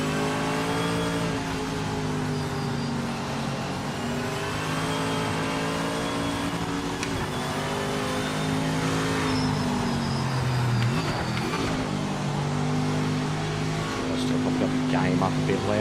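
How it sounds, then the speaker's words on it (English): A deep, throaty V8 race car engine in the racing game Project Motor Racing revs and climbs through gears, roaring steadily with pitch sweeps, while a voice talks over it throughout. "This is the best sounding V8 in the game."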